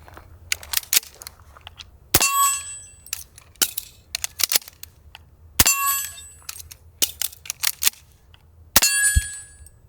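Suppressed 9mm 147-grain subsonic rounds fired from a Radian Model 1 rifle, heard as three sharp, close cracks spaced a few seconds apart, each with a metallic ringing tail, between quieter clicks and handling clatter.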